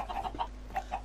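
Chickens cluck in a Minecraft Skyblock game, a series of short, evenly spaced bird calls that are soft and close, with no talk over them.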